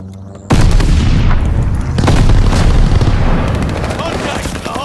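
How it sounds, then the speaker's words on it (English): A massive airstrike explosion in a ranked video game match hits suddenly and very loudly, followed by a long rumbling roll of blasts and gunfire that slowly fades, with voices faint underneath. "Friendly sending an airstrike."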